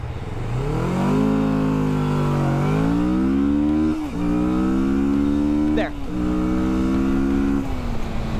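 A cruiser motorcycle, a Kawasaki Vulcan, accelerates hard through several gears. The engine drone rises and drops at each shift, loud and close throughout.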